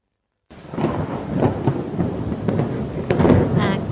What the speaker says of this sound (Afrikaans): Ek hoor donderweer,